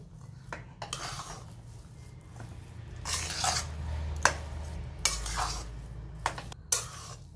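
Vegetable filling being stirred and mixed with amchur powder in a bowl for bread pakoda, giving soft scraping clinks of a spoon against the dish in irregular bursts, fairly near and quiet, with no talk.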